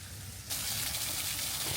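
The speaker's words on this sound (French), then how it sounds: "il y a la petite cascade et tout" A small waterfall cascade near Lake Como in a jungle-like garden setting, its rushing, hissing water suddenly loud and close, then pouring steadily without pause.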